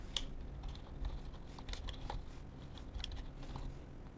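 Quiet, close typing on a computer keyboard: a string of light, irregular key clicks over faint background hiss, with no talking.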